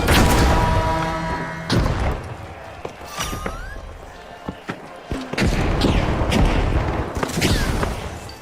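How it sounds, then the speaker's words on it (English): Enemy gunfire in the online shooter THE FINALS, with loud shots and heavy booms that come in bursts, sharp cracks and a ricochet-like whine mixed in, and voices talking over parts of it. "He's just shooting all over the place."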